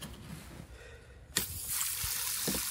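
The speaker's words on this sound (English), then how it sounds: "We have our shower, which is cold water only at the back." Cold-water-only shower at the back of a Beneteau Oceanis Clipper 311 sailboat switched on, with a sharp click followed by a steady, soft hiss of running water spraying close by.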